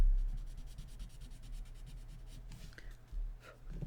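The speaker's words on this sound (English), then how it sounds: "I'm just kind of doing a back and forth motion so that way it spreads the graphite fairly evenly to each side." Pencil graphite rubbed back and forth across paper in shading strokes, a soft, close scratchy rasp repeating in even rhythm with a slightly louder stroke near the end.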